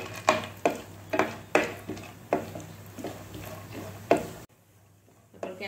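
Cashews frying in hot ghee in a pan while a spoon stirs, giving regular sharp metal clinks against the pan over a soft sizzle, then a quieter end.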